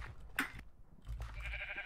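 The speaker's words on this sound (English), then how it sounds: "I found a pink sheep." A couple of short sheep bleats from the Minecraft video game, the first one close and clear, with quieter game sounds after it.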